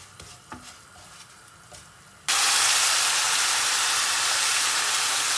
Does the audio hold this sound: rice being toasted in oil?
yes